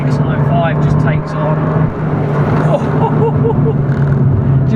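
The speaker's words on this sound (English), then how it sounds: "And the exhaust note and the engine note is just absolutely sublime." Abarth 695c Rivale engine and exhaust droning steadily close by while driving, a sustained low growl running under continuous talk from the occupants.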